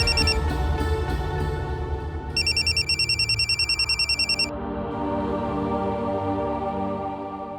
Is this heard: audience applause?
no